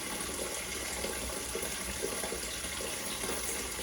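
Brown tannic acid water from the first rinse of acorns pours steadily in a continuous splashing stream, close and alone.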